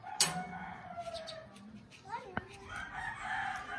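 A rooster crows at a distance amid quiet outdoor background, with faint voices and other bird sounds around it.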